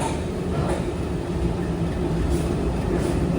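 The Konkan Kanya Express pulls out of Mumbai CSMT station in monsoon weather, a steady close rumble of rolling rail wagons with no pauses.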